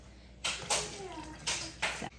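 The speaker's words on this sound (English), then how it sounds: "I'm just gonna add a bit of water as well." Water pours into a homemade milk mixture in a home kitchen, splashing in two or three short bursts separated by brief pauses, close and fairly loud.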